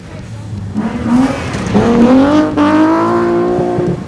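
BMW 325i rally car engine revs up and climbs through the gears, a rising loud drone close by that holds strong to the end.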